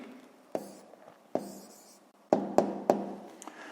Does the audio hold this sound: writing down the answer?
yes